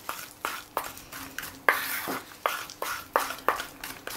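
A spoon stirs gold lustre powder into royal icing in a small bowl, giving a steady series of sharp, evenly spaced taps and scrapes against the bowl, close and clear with no talking.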